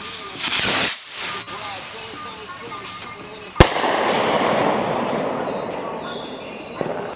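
Firework rockets go off in a sharp crack, then a long loud hissing rush follows, with a voice briefly heard early on.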